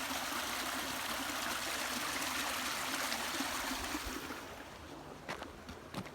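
A stream flows out of a small lake. Its continuous burbling rush of running water is near and steady, then thins to a quieter trickle with a few small splashes toward the end.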